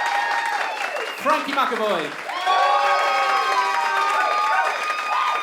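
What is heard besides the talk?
applause and cheering from theatre audience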